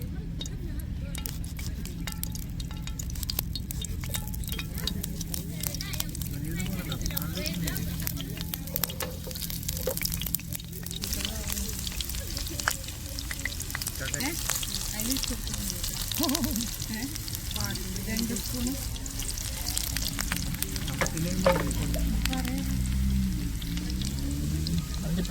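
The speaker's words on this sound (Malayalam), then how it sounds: "ഒരു ചെറിയ സ്പൂൺ ഉള്ളി നമുക്ക് പൊരിച്ചിട്ട് കൊടുക്കാം" Onion frying in a pan with ghee while a rava semolina sweet is made, a steady sizzle running throughout at moderate level with low rumbling underneath.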